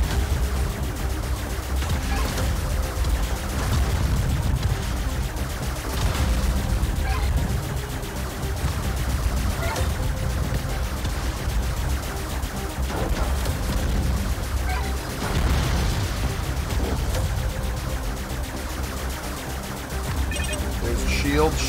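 Rapid double-shot firing in Astrosmash on the Intellivision Amico, repeated blasts packed into a loud, continuous wash of game effects with no pauses.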